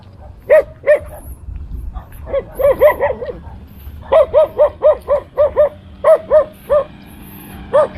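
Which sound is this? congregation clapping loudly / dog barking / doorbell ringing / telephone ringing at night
dog barking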